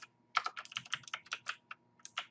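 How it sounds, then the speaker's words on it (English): Keystrokes on a computer keyboard tap out in quick, irregular clusters, close and crisp in a quiet room, with a short pause before a final flurry of keys. "tab over and type out the date"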